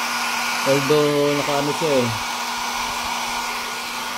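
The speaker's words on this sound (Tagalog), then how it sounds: "blower natin ng mainit, hot blower, para matuyo yung mga" A hot air blower dries a wet circuit board from an Astron automatic washing machine showing error E8. It gives a steady, even whoosh with a low hum throughout, and a person speaks briefly near the start.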